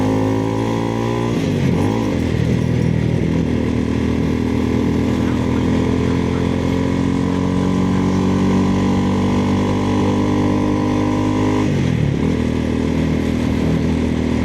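A motorcycle is ridden along city streets past concrete and businesses, its engine droning steadily and loud throughout, with two brief dips in pitch as it shifts or slows.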